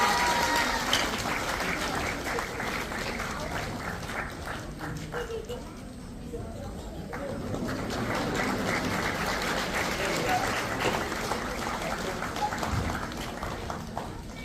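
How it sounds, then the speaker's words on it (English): Parents at a playschool annual day clap for the children, a lively irregular patter of applause that dips briefly midway and then picks up again, heard at moderate distance with some voices mixed in. "Please, parents, give a big round of applause for them."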